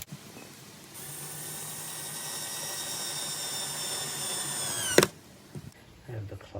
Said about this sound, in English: I have the clutch set fairly low on the drill so that it doesn't destroy the timber in the door.